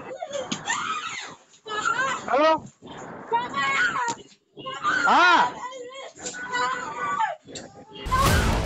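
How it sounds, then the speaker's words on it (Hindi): A girl screams and cries out in distress during a fatal knife attack, in wavering high-pitched bursts separated by short gaps, with brief spoken words heard as well. "ये चीख मौत के उन्हीं पलों की है जब लड़की जान बचाने के लिए चिल्ला रही थी"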